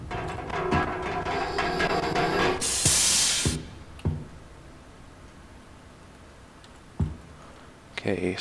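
Steam hissing from a valve in the horror game Monstrum, a loud bright burst of about a second that cuts in over droning ambience, followed by scattered clanks and sharp metallic hits.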